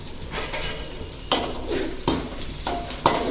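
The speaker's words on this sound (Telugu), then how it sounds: "ఇప్పుడు ఇవి వేగుతున్నాయి కదా" Ingredients for a ground chutney fry in a pan with a steady sizzle, while a ladle stirs and scrapes against the metal in four sharp strokes. No one speaks.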